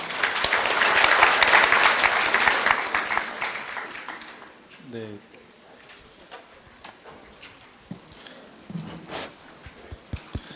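Workshop audience at a national dementia management event gives loud, dense applause welcoming discussion panelists, fading after a few seconds into scattered claps and quieter room noise.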